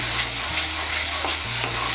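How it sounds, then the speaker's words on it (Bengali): Spice masala with chili powder for an egg curry fries steadily in a pan, with a continuous close sizzle and repeated scraping strokes of stirring throughout. "মিশিয়ে নিয়ে মশলাটাকে ভালো করে কষিয়ে নেব।"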